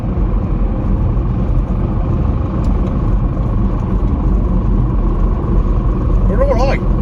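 A car's engine drones and rumbles steadily from inside the cabin during an overtake alongside a truck, a low continuous hum with brief speech near the end.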